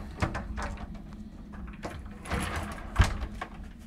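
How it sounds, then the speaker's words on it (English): Closet doors in a Carnival Celebration cruise ship presidential suite being opened: a few soft knocks and sliding rattles, close by, with quiet room noise between them and no talk. "And when you open up the closet doors, you got a light that comes on."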